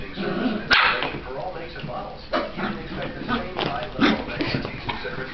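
Dogs bark and yip in short bursts close by while a person talks over them.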